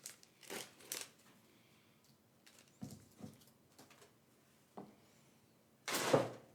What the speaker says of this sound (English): I'm going to open it. I suggest you use scissors.